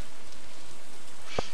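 Rain falling in the Stardew Valley video game, a steady hissing wash of drops, fairly loud and unbroken, with a single sharp tap near the end.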